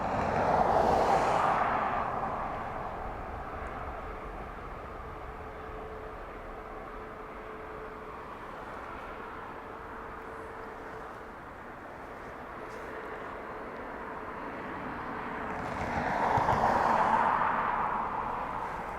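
A Lufthansa City airliner arrives at windy Dublin airport after a flight from Munich. A broad, fairly faint jet roar swells at the start, fades to a steady low rumble, then rises again near the end.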